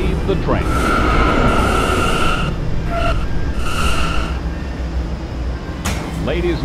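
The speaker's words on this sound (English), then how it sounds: "Train." A K line subway train running on the rails, a steady loud rumble throughout with brief higher tonal whines from the motors or wheels.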